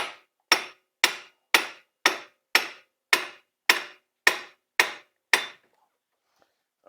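Ten sharp, evenly spaced hammer blows strike the lower control arm of a Can-Am Traxter ATV during a wheel bearing job, each a loud metallic whack with a quick decay, followed by near silence.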